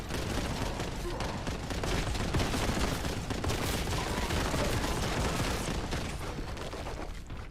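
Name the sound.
gunfire shooting at player in video game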